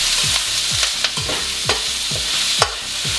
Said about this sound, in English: we're going to start sauteing some onions